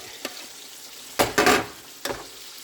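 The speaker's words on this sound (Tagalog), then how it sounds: "Saglit lang lutuin itong tauge." Bean sprouts stir-fried in a pan over a soft background sizzle, punctuated by a few sharp scraping tosses and clatters, close and without speech.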